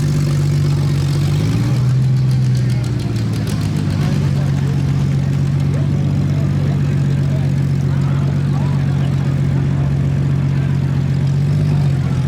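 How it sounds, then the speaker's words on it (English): A minivan demolition-derby car at the Beeton junk run idles roughly on two of its four cylinders, giving off a loud, continuous low engine drone that dips slightly in pitch early on, then holds steady throughout. "Running on 2 cylinders out of 4."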